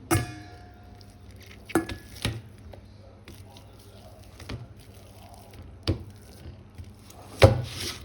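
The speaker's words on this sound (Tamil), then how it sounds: "நான் இதை வந்து வடிவாக நசிச்சு எடுத்துக்கொள்வோம்" Boiled potatoes being mashed in a pot with a hand masher, giving scattered dull knocks and thuds at an uneven pace, fairly close, with quiet scraping between strikes.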